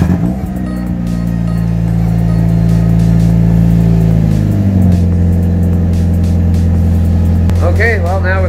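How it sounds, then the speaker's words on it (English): A car engine, a red project car in a ratty build, fires from a cold start and settles into a loud, steady low idle with a brief rev change midway, while people talk nearby. "cold startup on the red sled."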